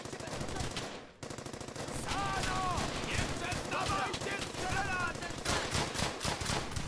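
Rapid machine-gun fire rattles almost continuously through a World War II battle in Brothers in Arms: Hell's Highway, loud and dense with a brief gap, while voices call out over the shooting.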